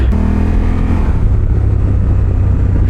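A Honda E-Clutch motorcycle holds third gear under acceleration, its engine a loud, steady, close droning growl with a rising note that then levels off, with no voices.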